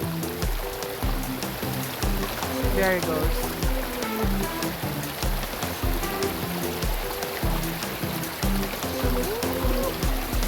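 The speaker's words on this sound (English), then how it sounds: "So we're gonna throw away the water from the chicken that don't go down into the river." Water left from washing chicken is poured out beside a river, splashing and trickling over a steady flowing-stream background while a voice speaks briefly.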